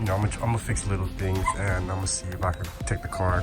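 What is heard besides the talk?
pet dog crying and barking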